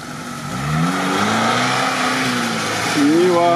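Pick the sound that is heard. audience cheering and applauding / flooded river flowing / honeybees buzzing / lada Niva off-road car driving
lada Niva off-road car driving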